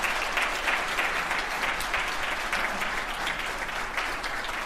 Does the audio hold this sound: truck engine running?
no